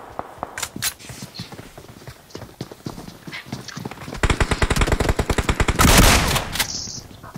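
Gunfire in a shooter video game, with scattered single shots and footstep-like taps building into a long rapid automatic burst of dense, evenly spaced shots, loud and close without talk.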